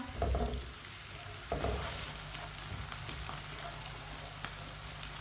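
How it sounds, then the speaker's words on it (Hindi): Onions fry on medium heat in a pan, a constant bright sizzle with a few louder scrapes and knocks of a spoon stirring them, steady and close with no speech. "इसे ऐसे ही चम्मच चलाते हुए ब्राउन करें।"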